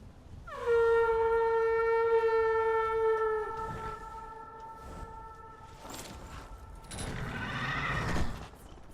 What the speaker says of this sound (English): Horse call, horse call, horse call.